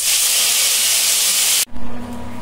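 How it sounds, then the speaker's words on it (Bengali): Fish dropped into hot oil in a wok, with a loud, steady broadband hiss and sizzle of frying that cuts off abruptly near the end, leaving a low hum. "কড়াইতে তেল গরম হয়ে গেছে, এবারে এর মধ্যে মাছটা দিয়ে দিই।"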